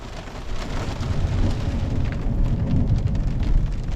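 Steady rain hisses loudly throughout, with a low rolling rumble of thunder swelling underneath.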